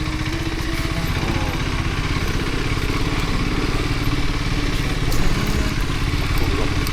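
A motorcycle crosses a bridge with its engine running loud and close in a constant throbbing drone and light clatter, swelling slightly near the end.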